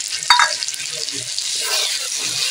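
Spices with chilli and turmeric powder sizzle and fry in a pan for a meat, curd and potato curry, with a sharp stirring knock early on and then a continuous hiss.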